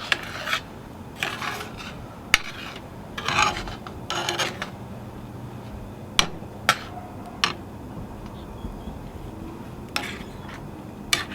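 A spoon scrapes and rasps against the bottom of a Dutch oven as a peppered sauce is stirred, with sharp metallic taps in between over a steady low hiss, close and without speech.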